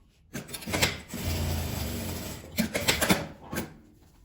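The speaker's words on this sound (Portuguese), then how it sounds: "Vou costurar para ele prender no lugar certo." A sewing machine stitches fabric for a small accordion-style wallet, a steady mechanical whir in one continuous run broken by a few short bursts and knocks, close and fairly loud.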